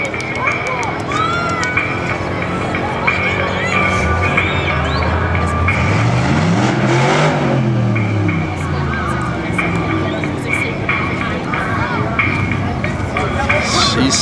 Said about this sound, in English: here she comes. First solo run. '06 Go Mango Dodge Daytona.